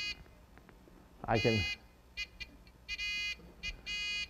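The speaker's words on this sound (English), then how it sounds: "So there's a buzzer" An electronic buzzer on a Raspberry Pi circuit sounds in short high-pitched bursts, with two longer steady tones near the end, as someone speaks briefly over it.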